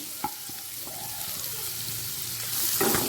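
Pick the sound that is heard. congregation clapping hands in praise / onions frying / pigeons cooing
onions frying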